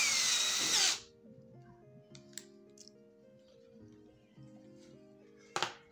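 A cordless rechargeable drill drives a screw in a single loud whirring burst of about a second, followed by near quiet with a few faint clicks and a brief sharp noise near the end.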